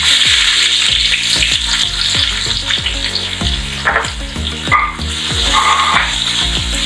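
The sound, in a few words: onions frying in hot oil with fenugreek powder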